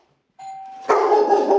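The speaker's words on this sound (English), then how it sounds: "Ring the doorbell again." A doorbell chimes once, quickly followed by a loud, close dog bark that continues in a rough burst.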